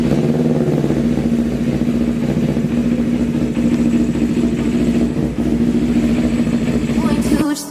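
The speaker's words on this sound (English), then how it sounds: "about ready to fire up and see how she runs." A Yamaha R3 motorcycle, converted from a road bike into a stock-engine race bike, runs steadily and loudly up close with a constant droning tone before cutting off abruptly near the end.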